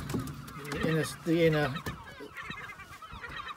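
Herring gull chicks give shrill, rising cheeping calls in short bursts while being handled for ringing outdoors, close by, followed by rustling and faint handling noise, with a brief human word mixed in.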